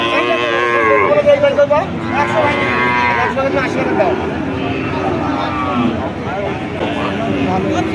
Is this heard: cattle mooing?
yes